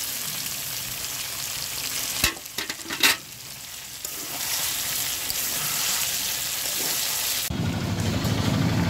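Potatoes fry in spice masala for aloo dum, a steady loud sizzle broken by a few sharp clatters, then swelling into a stronger hiss as they hit the pan.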